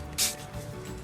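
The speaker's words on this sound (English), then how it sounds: "Spray it." A spray bottle gives one short, close mist burst of water onto a paper flower, followed by quiet handling.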